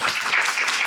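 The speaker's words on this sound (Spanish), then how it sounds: "Un aplauso, por favor." Audience applause at a panel session, a brief dense burst of many hands clapping.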